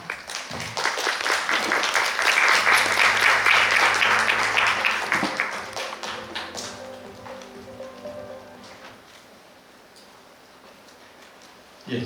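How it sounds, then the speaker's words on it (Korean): Audience clapping at a Korean cloud and SaaS industry forum welcomes a speaker, swelling quickly, holding for several seconds, then thinning out into scattered claps and quiet hall noise. "여러분 박수로 맞아주시기 바랍니다"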